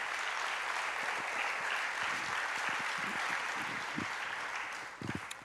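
A church congregation bursts into sustained, dense applause that fills the room evenly for several seconds, then thins out into a few scattered claps and knocks near the end.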